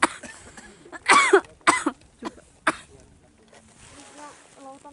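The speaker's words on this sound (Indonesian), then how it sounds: "Dan tuh si kecil batuk dari tadi." A young child coughs several times in short bursts on a foggy mountain hike, with quiet voices and background sounds between the coughs.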